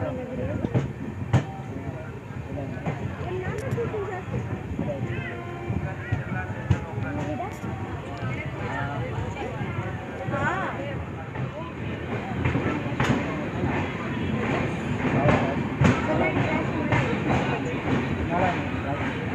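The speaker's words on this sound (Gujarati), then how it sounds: "ઓન ટાઈમ પહોંચી જ આપણી ટ્રેન" 22945 Saurashtra Mail passenger train pulling into Dwarka station, a steady rumble of rolling wagons with sharp clanks and rail clicks throughout, heard from on board with voices mixed in.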